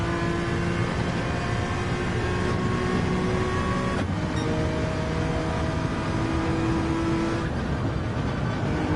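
A race car engine in Gran Turismo 7, driven on worn tyres, hums steadily, then gives a quick throttle blip with a sharp rise and fall in pitch before settling back into a sustained drone.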